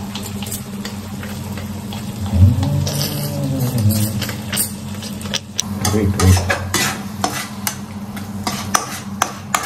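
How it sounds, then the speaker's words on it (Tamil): Ground masala chutney paste sizzling in a hot pan while being stirred, with a continuous close frying crackle, scraping spoon strokes and occasional clinks against the pan. "நம்ம அரைச்சு வச்ச சட்னி மசாலா பேஸ்ட் அதுதான் மசாலா சட்னி இதுல வந்து ஆட் பண்ண போறோம்"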